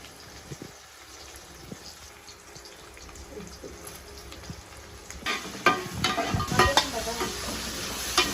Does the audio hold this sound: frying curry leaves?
yes